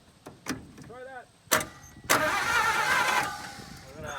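A 1951 Pontiac Chieftain engine, idle for over 25 years, cranks after a few clicks and sharp knocks, then catches into a loud rough running roar up close, with a brief voice beforehand.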